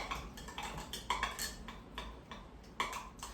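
A spoon mixes couscous with stock in a bowl, producing irregular light clinks and scrapes against the dish, close and fairly quiet, with no talking.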